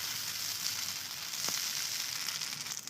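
Pasta fries in a pan with a soft, steady sizzle, fairly quiet, with one brief scrape or crackle near the middle.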